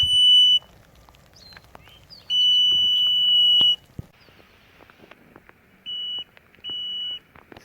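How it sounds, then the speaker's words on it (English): A groundwater water-level probe on a measuring tape sounds sharp, high-pitched beeps on reaching water, one long steady tone and several shorter ones, separated by quiet rustling and clicks. "When this probe reaches the water, it'll send a signal up the tape and it will beep"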